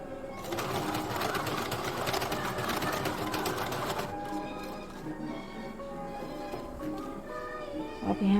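A sewing machine stitching a princess-cut deep-neck blouse runs in a steady, fast mechanical chatter for about four seconds, then slows to softer, intermittent stitching with light taps.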